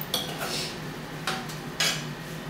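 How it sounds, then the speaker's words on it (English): A spoon scrapes and clinks against a pot while spinach dip heated with plenty of pepper gets stirred, three distinct close strokes over a quiet background. "And I proceed to stir the spinach dip."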